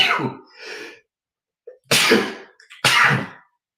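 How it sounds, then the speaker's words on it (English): Two loud, sharp sneezes come close together after a brief breathy sound, with silence between them. "did I sneeze off screen?"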